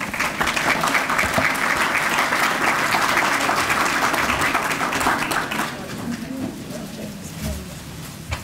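An audience applauds to welcome people up to the front, opening a Goodwill Industries of Central Indiana event with steady, dense clapping that holds for several seconds, then thins out and fades.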